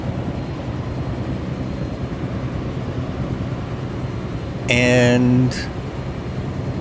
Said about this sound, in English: we're gonna look at the airport first by helicopter